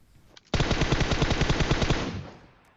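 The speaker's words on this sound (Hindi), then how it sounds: "M4 बढ़िया गन है" Rapid automatic fire from an M4 rifle in PUBG Mobile, a dense sustained burst of about a second and a half of quickly repeating shots that cuts off abruptly and rings out with a short decaying tail.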